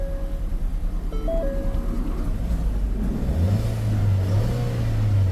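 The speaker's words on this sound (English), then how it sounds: "let's go turn the car on" A 2019 Ford Escape that had a cylinder misfire idles right after being started, giving a steady close engine hum and rumble with a faint electronic chime early on and a rising tone near the end.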